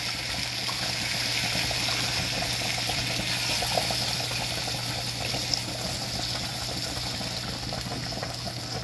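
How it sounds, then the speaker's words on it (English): Water simmering and bubbling in a pan of cooking ground beef, a steady hiss and gurgle held at an even level throughout, with a low constant hum underneath. "We done put us some water in there now."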